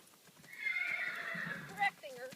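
A big red mare whinnies loudly through a long, rising-and-falling neigh, with faint hoof clip-clops beneath and a voice briefly audible near the end.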